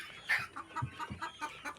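Chickens clucking near the nest boxes of a home flock, a few short close clucks and calls in quick succession over a quiet background.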